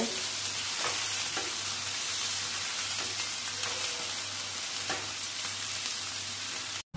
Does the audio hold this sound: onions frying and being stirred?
yes